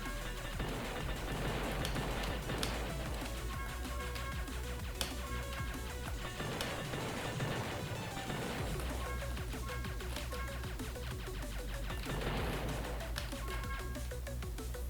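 Repeated booming Core Cannon blasts and crashes fire steadily over a dense, busy Void Resurgence game soundtrack, with sharp impacts punctuating the continuous noise.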